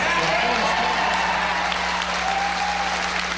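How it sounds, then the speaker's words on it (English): A crowd at a political listening session erupts in sustained applause and cheering, loud and continuous for several seconds, with a steady low hum beneath and indistinct voices mixed into the roar. "when opponents of the reforms being discussed spoke, the crowd erupted"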